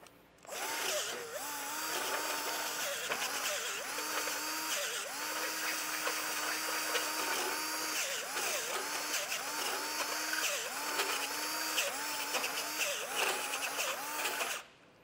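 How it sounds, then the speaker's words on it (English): A burr bit in a power drill grinds a hole wider in a bumper mount on a 2021 Jeep Wrangler, a steady high whine with repeated short bursts and dips as the bit is worked through the metal. "a burr bit, I generally like to run this through to open that up a little bit"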